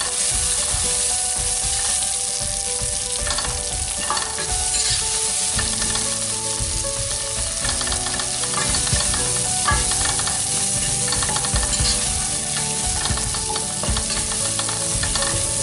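Ingredients for chilli kappa (tapioca) sauté in a hot pan with a constant loud sizzle and frying crackle, punctuated by scraping stirring strokes, with no voices.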